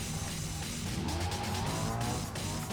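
A car in the racing game BeamNG.drive locks its brakes, and the tires skid and squeal over a steady engine roar. The noise is loud and continuous throughout.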